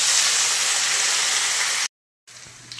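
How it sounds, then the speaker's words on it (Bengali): Chopped onion hisses in hot oil in a wok, a steady bright sizzle that runs for almost two seconds, cuts to silence, then comes back as a softer hiss. "এবার দিয়ে দিলাম কুচনো পেঁয়াজ।"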